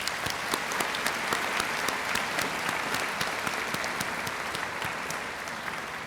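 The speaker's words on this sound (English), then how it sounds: "Join me in a round of applause." Sustained audience applause for standing graduating students at a 2019 Riverside high school graduation ceremony, a dense steady wash of many hands clapping at even loudness throughout with no voices over it.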